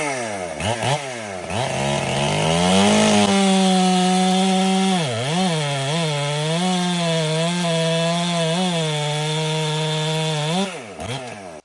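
A 90cc Stihl chainsaw cutting wood, a loud, close engine whine that rises to a sustained high-revving buzz through the cut, with brief dips in pitch, before dropping away at the end.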